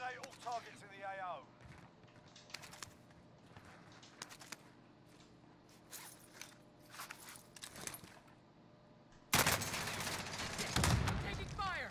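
Gunfire in Call of Duty Warzone on the Verdansk 1984 map: scattered single shots and short bursts at varying distances, then a loud, sustained burst of fire near the end, with players talking in between.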